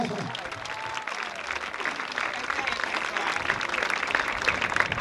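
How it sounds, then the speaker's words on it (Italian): Audience applause during an improvised interlude at a comedy show in Alghero, a dense, steady crowd clapping that holds for the full five seconds at moderate distance. "fate questo applauso e via così"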